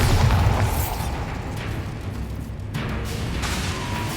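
A Bombarda explosion spell goes off in Hogwarts Legacy, a loud low boom at the start that rumbles and fades into a sustained roar of game noise.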